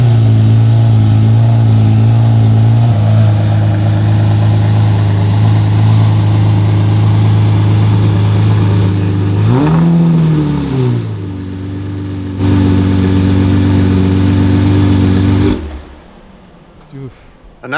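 A Lamborghini Murcielago with a straight-pipe exhaust runs loud and close, holding a steady droning note, then rising through a sharp rev and falling back before the sound cuts out abruptly.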